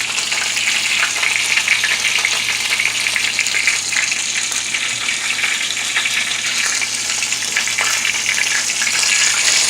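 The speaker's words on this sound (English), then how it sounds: "once it has a few good bubbles popping on top of it, that's when it's pretty much good for me." A turkey burger fries in a pan, sizzling and crackling steadily with small bubbles popping, close and continuous with no talking.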